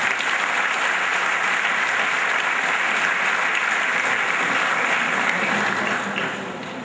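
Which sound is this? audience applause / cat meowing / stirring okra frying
audience applause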